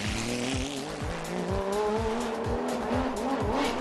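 A race car on a test track with GMG race support runs hard with a steady engine roar, its tires squealing continuously while rhythmic engine pulses repeat under the screech, close and loud.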